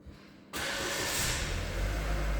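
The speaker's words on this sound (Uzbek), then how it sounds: "Motor tiniq ishlayapti." A car engine, just refilled with oil after running dry, turns over after a quiet half second, catches abruptly, then runs at a loud, steady idle close to the microphone.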